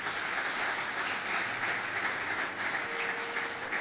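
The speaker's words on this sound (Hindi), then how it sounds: "जोरदार तालियां खुदा के" Congregation clapping in a church service, a steady wash of applause at moderate level that holds evenly throughout, with a faint low hum underneath.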